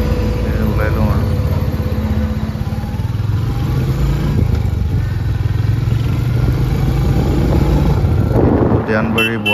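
Motorcycle riding along a road, a continuous mid-pitched engine drone with wind rush, close and loud, with a voice talking over it throughout.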